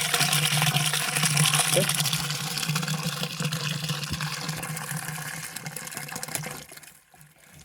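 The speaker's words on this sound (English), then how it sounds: "So right now I'm just letting the water run in here. Should be filling up again." Water runs and gushes steadily into a planter in a thermal mass greenhouse, a continuous rushing that eases off near the end, with a brief spoken word over it.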